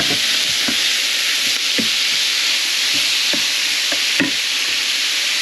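Shrimp hit a hot pan with light brown garlic and fry in a loud, steady sizzle, with repeated stirring scrapes and clacks of a utensil up close.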